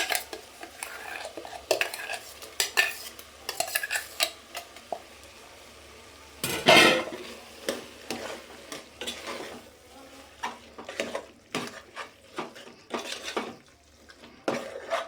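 Ground masala fries in hot oil as a spoon stirs it, a steady soft sizzle under frequent scraping and clinking against the pan, with one louder clatter partway through and no talking.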